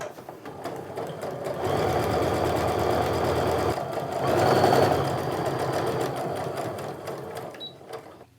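A sewing machine runs steadily for several seconds, back-tacking to reinforce stitches on a sling bag, with a dense mechanical whir that swells slightly midway and stops near the end.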